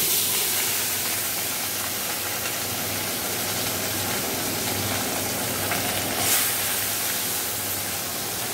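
Fish frying in a pan of oil, a steady broad hiss and sizzle with a low hum beneath, continuous and close.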